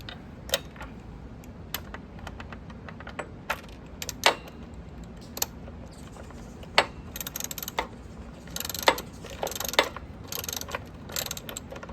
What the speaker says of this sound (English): now we're gonna tighten it up using the 10mm wrench and the socket wrench